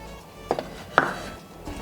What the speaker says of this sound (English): Cut the green chilies into very tiny slices.